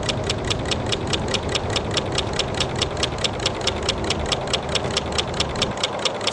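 A small solar-powered Stirling engine with a piston runs steadily, giving a rapid, even ticking rhythm over a constant mechanical whir, close up and alone.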